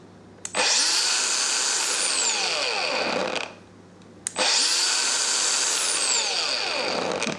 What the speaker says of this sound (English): It's an angle grinder.